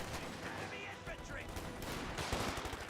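Dense .50 cal machine gun bursts from Panzer Fusiliers in the strategy game Company of Heroes 2, rapid broadband rattling that runs steadily through the whole stretch under other battle noise.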